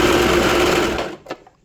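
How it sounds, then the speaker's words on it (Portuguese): A straight-stitch sewing machine runs fast and close while stitching lace on a pet dress, a steady high whirring buzz that stops abruptly, followed by a brief click. "Agora, vamos costurar na nossa máquina reta."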